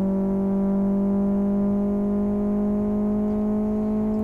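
A 1989 Fiat Uno 1.3 engine in Live for Speed holds a steady, loud droning roar at constant revs, smooth and unbroken throughout.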